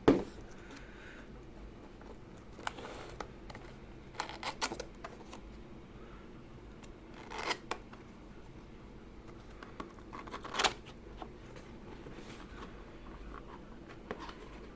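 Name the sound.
unboxing packaging of Tecware Phantom mechanical keyboard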